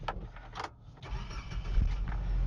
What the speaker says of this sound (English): Still fires right up like it's a new truck.